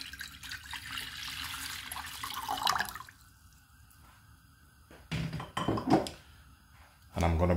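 Running water pours into a pot, about a cup and a half for ginseng lemon green tea, a steady splashing hiss for a few seconds followed by a thunk and drips, with talking nearby.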